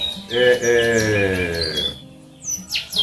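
Pet birds that are fed corn daily chirp and tweet in quick, bright calls, a dense burst of song up close followed by a brief lull and a few sharper chirps, with no one talking.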